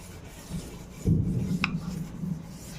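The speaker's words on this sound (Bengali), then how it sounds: "একটা ছোট ব্রাশ দিয়ে আমি জাস্ট একটু ঘষে দিচ্ছি" A small brush scrubs a dirty bathroom basin in short rubbing strokes, a close rasping scour that starts about a second in and carries on steadily.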